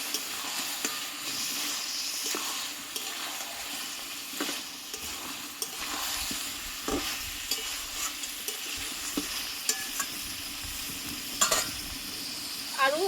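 Mutton with garlic and potatoes sautés in a pan for a Bengali mutton curry, a continuous sizzle overlaid with irregular stirring scrapes and light clinks, close and moderately loud.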